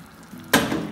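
A cup of water is poured into a pot of rice for sardine rice, arriving as a sudden close splash and rush after a quiet moment and carrying on to the end.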